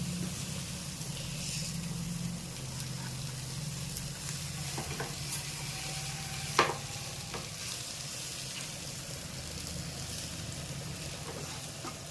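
Fish fry sizzling in a pan, sprinkled with fenugreek powder, garam masala and coriander: a steady, moderately quiet sizzle with faint stirring scrapes and one sharp clatter midway, no speech.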